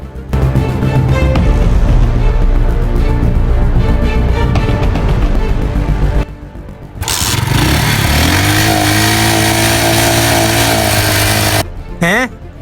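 Motorcycle said to run on water, engine running loudly as the bike is ridden, a steady mid-pitched drone, a brief drop, then revving up again with steady tones; voices talk over it.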